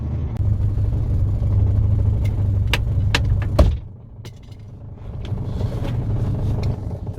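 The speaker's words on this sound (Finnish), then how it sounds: "nyt se kuuluu huomattavasti pahemmin tuo kolina. Kyllä remmiahtimesta vähän vikaa vaan on" An engine fitted with an AMR500 belt-driven supercharger idles with a steady low rumble, while irregular metallic knocks and rattles from the faulty supercharger cut through; the engine dips briefly midway, then settles back to idle.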